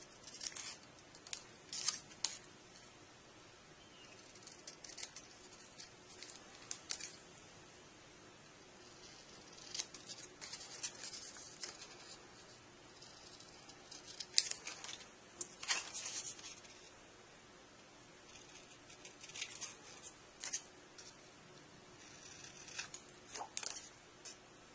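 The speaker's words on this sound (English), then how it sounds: "So now just get your scissors and do the corners here." Scissors cut the card corners of a 1:400 scale model airport hangar. The snips come as faint, quiet bursts of crisp clipping with paper rustle between them, spaced irregularly over a hushed background.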